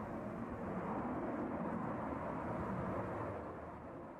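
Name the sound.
Su-57 fighter jet takeoff roll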